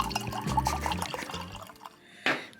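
Alcoholic drink poured into a glass, a short gurgling stream of liquid with small splashes and drips, close and fairly quiet, ending in a brief clink near the end.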